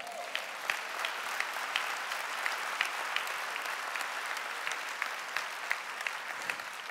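A church congregation applauds during a sermon, with even, steady clapping with some sharper individual claps standing out, moderately distant and sustained.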